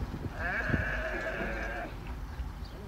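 A sheep gives one long, wavering bleat close by, lasting more than a second, over the low rumble of an outdoor setting.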